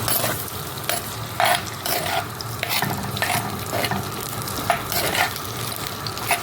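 Food sizzles steadily in hot oil while a utensil scrapes and stirs against the pan in repeated strokes, close and fairly loud.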